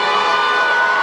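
A school crowd at a student government investiture ceremony cheers and acclaims, a loud, dense wash of shouting and whooping voices with children's shrill cries, sustained without pause.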